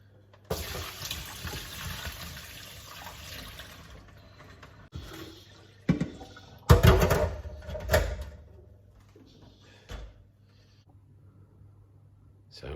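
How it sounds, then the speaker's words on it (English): Running tap water rinses salted cucumbers in a sink for quick pickles, with a steady gush of water followed by scattered splashes, knocks and handling noises nearby. "So you want to rinse off all the excess salt, otherwise you're going to have extremely salty pickles."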